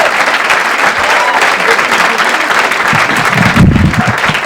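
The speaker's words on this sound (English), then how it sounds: "Please, a nice round of applause for Mr." Audience applause greeting a comedian at a stand-up comedy show, a dense, loud wash of clapping from the crowd that carries on for several seconds, with a few louder claps near the end.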